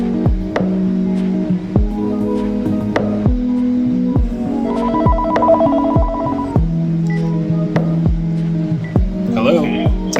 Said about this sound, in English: Test phone call.